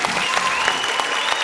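Audience applause at a mimicry performance: a dense, steady burst of clapping from many hands, loud and close, filling the whole moment.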